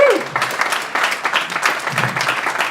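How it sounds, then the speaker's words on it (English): An audience at a venue launch party claps in a short, uneven burst of applause that swells and dips, with a few shouts mixed in. "Can I please get a massive round of applause for the team at Sir Basil?"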